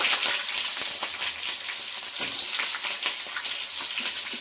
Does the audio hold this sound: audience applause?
no